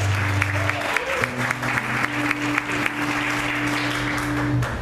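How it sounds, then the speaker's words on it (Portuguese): Congregation clapping together in a church, a steady wash of applause with sustained tones running underneath, filling the space at moderate loudness. "Você pode aplaudir e exaltar a Deus por isso."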